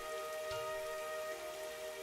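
Steady rain falls in Fate/Grand Order, a dense even hiss of drops on a surface, moderately loud and continuous throughout with no voices.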